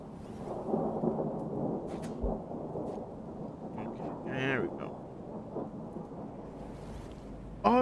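Steady video game rain hiss fills the scene with low rumbles of thunder in Rain World Downpour, while a voice speaks intermittently over the downpour.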